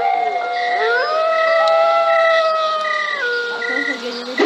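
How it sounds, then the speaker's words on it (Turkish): Wolves in the Minecraft video game give long, rising and falling overlapping howls, loud and close, holding steady for several seconds. "Şehirde kurt mu var ya?"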